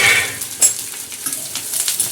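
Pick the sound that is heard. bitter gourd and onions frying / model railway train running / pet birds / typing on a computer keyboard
bitter gourd and onions frying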